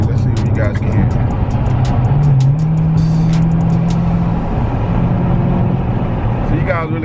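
Steady engine and road rumble from inside a moving car, with constant wind noise rushing over the cabin.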